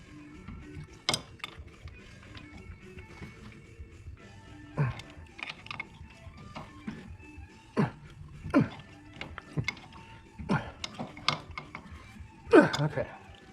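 A wrench tightens a valve fitting on a Freeman loader, giving scattered sharp metallic clicks and ratcheting taps spaced irregularly, close by and moderately quiet.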